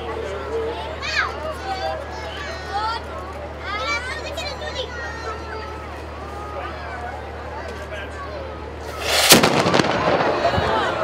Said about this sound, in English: we will be firing our slew for a second time again, so do be warned